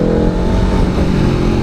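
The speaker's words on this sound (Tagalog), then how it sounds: "Kahit tinatry kong dahan-dahanin yung bitaw ng clutch and pigaan ng gas, iba yung gusto mangyari ng motor na to." An Aprilia Tuono V4 Factory hyper-naked sportbike's V4 engine revs hard under throttle, a loud, close, continuous roar with no talk over it.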